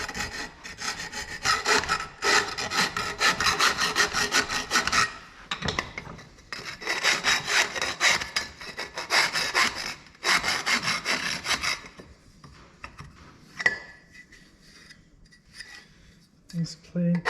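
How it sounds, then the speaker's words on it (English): A cut end of a steel turbo pipe being deburred by hand, heard as bursts of rhythmic rasping strokes with short pauses, then scattered lighter scrapes and clicks near the end. "Just take burrs off it."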